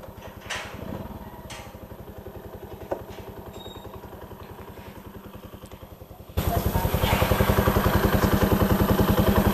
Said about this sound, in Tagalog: sa wakas dumating din yung motor natin